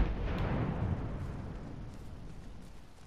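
A frag grenade explosion in Apex Legends, a deep, heavy boom rumbling from the start and slowly decaying away at a moderate distance.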